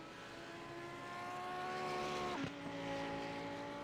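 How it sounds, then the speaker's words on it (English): Race car engine roaring steadily in a racing video game at Sebring, with layered harmonic drone that dips sharply in pitch midway as the car slides, then recovers, loud and continuous. "Yeah, that car has just been sliding all throughout the race."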